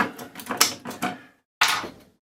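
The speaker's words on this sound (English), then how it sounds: "Just get that door closed." The coin door of a claw machine arcade bought from Temu is handled and shut up close: a run of rattling metallic clatters, a short silence, then one sharp closing clack that fades quickly.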